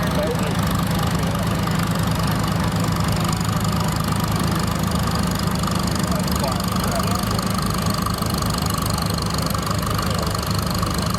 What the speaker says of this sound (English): It has a Chrysler engine with a two-step governor.